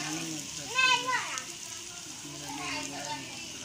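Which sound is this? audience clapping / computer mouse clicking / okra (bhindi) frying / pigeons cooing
okra (bhindi) frying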